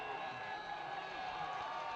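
The Jamestown crowd at a college football game against VCSU cheers in a steady, fairly distant wash of voices.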